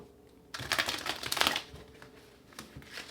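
Tarot cards are shuffled by hand in a quick riffling burst, crisp papery flutters clustered in about a second, followed by a quieter pause and a brief second flurry of card sounds near the end, no talking.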